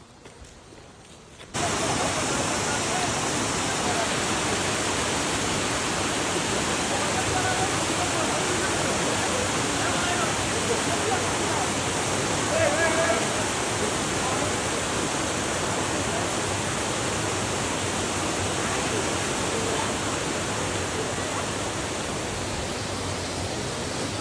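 The Anakulam waterfall roars in a steady, dense rush of water that stays loud and unbroken, starting abruptly after a brief quieter moment.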